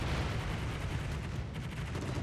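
Enemy carrier aircraft strafing a ship in World of Warships, heard as a dense, continuous rumble of gunfire and anti-aircraft fire that stays loud and steady throughout.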